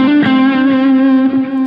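A distorted electric guitar sustains a single held note with effects on the intro-style lead of a song, loud, close and alone for under two seconds.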